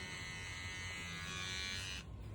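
An electric beard trimmer buzzes close and steady, cutting facial hair with a bright, high-pitched hum that drops off abruptly near the end.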